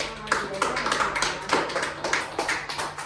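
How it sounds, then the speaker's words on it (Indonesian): A small group claps for Mbak Elsa in an office-equipment microteaching session, uneven hand claps close by for about three seconds, with a faint hum underneath. "tepuk tangan untuk Mbak Elsa"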